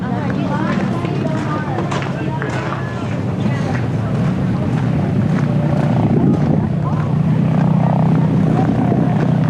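Strong wind buffets the microphone at a campsite, a steady loud roar that swells toward the end, with people talking underneath.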